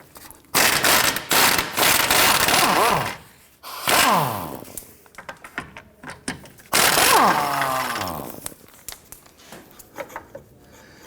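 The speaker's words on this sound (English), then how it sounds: "there's going to be two 14mm bolts on the bottom. We want to go ahead, loosen, and remove those nuts." A ratchet works loose the 14mm nuts on a transmission mount of a 1992-1996 Toyota Camry 2.2L L4, with close bursts of rapid clicking separated by pauses and occasional metallic knocks.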